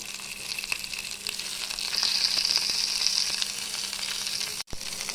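Round eggplant and tomatoes fry in mustard oil in a pan, giving a steady, bright sizzle throughout with faint stirring ticks, then a brief dropout near the end.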